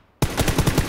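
Rapid automatic gunfire in PlayerUnknown's Battlegrounds bursts in suddenly after a brief silence, a loud, close string of evenly spaced shots rattling without pause for the rest of the moment.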